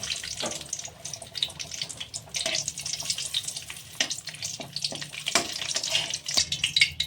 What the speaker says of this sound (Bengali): একটু সাদা তেল দিয়ে নিয়েছি আর ওতে একটুখানি ঘি দিয়েছি এর চারটে তেজপাতা ভেজে নিচ্ছি